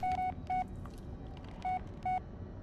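Four short keypad tones dialed on an old Nokia mobile phone, each a clean steady beep, spaced irregularly over low background rumble with no talking.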